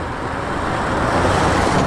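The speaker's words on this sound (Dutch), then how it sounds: "Eerste versnelling. En ik trek nou ongeveer op." A car's engine revs up as it accelerates in first gear, a steady, rising roar heard from inside the car with no talk over it.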